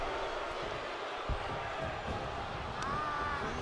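Arena crowd noise in the WWE 2K22 wrestling game, a dense constant roar of cheering beneath a match, with a thump from the ring partway through.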